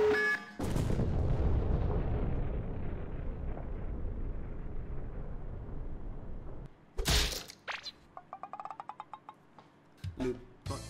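A massive, sustained nuclear explosion in the video game Henry Stickmin rumbles loudly and slowly fades, followed by a sharp blast and a rapid run of electronic clicks and beeps.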